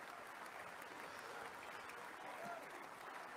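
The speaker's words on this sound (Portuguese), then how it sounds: "O público ainda aplaude ela." An audience applauding at the Republican National Convention, a dense, even wash of clapping heard at a distance and fairly faint, continuing steadily throughout.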